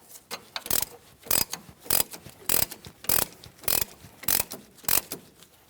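A wrench turning the 24mm center bolt of a puller to draw the crankshaft pulley off a 2007-2014 Ford Edge 3.5L V6, sharp rhythmic ratchet clicks in steady, evenly spaced strokes, close and without talk.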